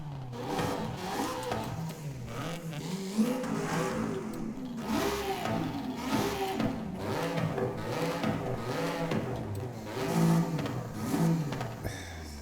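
Alfa Romeo 155 DTM race car engine in Forza Horizon 5 revving steadily and continuously, the pitch rising and falling in repeated swells, loud and close throughout.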